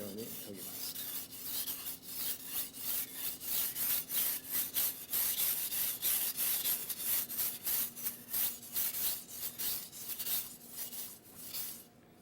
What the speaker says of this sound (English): Sharpen the top side of a slicer the same way as a chef knife.